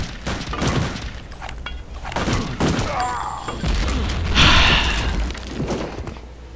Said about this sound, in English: Let's try a grenade.